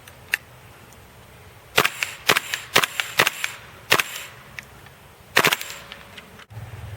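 A KWA LM4 PTS airsoft rifle fires at a distant target in sharp, snappy single shots, some spaced out and some in quick pairs, loud and close against a quiet outdoor background.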